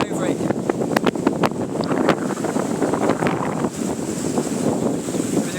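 Wind gusts across a lake near Mount Nantai in Japan, a loud, steady buffeting rush against the microphone with intermittent harder bursts and no talk.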